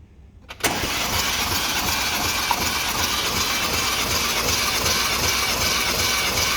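A 2018 Mercedes E63s with 90,000 km cranks over on the starter during a compression test, a loud, close, steady mechanical churning that kicks in abruptly after a brief quiet moment and runs on without pause.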